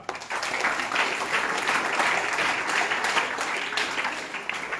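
A group of children at a camp claps together, dense and loud nearby, a sustained burst of applause holding steady for several seconds.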